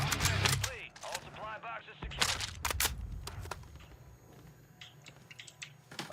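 Ram 7 rifle with a 60-round magazine firing in a video game, sharp bursts of gunfire in quick succession, loud and close, with a voice talking over the first shots.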